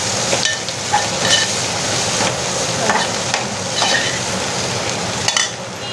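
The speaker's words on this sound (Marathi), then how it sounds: "साधी बटाट्याची भाजी करायची आहे आणि ते आता छान परतून घ्यायचं" Potatoes with turmeric sautéing in a pan, a steady sizzle and fry with repeated stirring scrapes and clinks, close and continuous with no talk.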